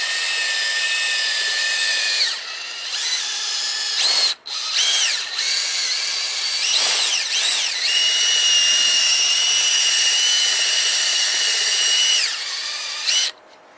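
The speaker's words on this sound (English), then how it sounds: "put some of your polish and on your drill." A handheld power drill with polish on its pad buffs car exhaust tips, giving a loud, steady high whine. The pitch rises and dips and briefly cuts out a few times as the tool is worked against the metal; no talking.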